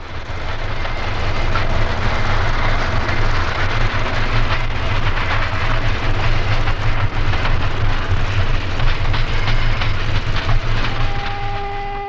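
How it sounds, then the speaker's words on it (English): An eastbound South Shore electric interurban train rolls through Burnham Yard near Chicago, a loud, steady rumble of wheels and carriage noise sustained close by for the whole stretch, with faint tonal whines near the end. "An eastbound rolls through Burnham"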